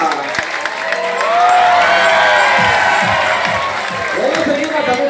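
Audience applause and cheering fill the stands at an Ocean World sea lion show, a dense, sustained crowd roar that swells midway and stays loud throughout, with voices mixed into the noise.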